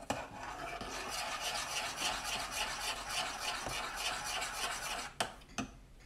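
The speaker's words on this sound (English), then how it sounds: "Stir that in." Oatmeal being stirred in a pot or bowl, a steady close scraping and rasping that runs continuously before a couple of sharp knocks near the end.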